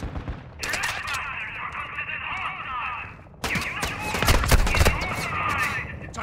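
Rapid automatic gunfire crackles in Call of Duty Warzone 2 DMZ, two sustained bursts separated by a short pause, loud and close with heavier booms in the second stretch.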